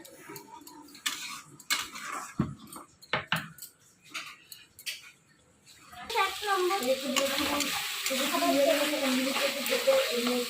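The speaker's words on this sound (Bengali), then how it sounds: "একটু হালকা জল দিয়ে কষাচ্ছি, কষিয়ে নিয়ে" Curry is sautéed and stirred in a pan with a little water: a spoon clinks and scrapes against the pan in scattered strokes, then a steady sizzle of frying rises and continues under the stirring.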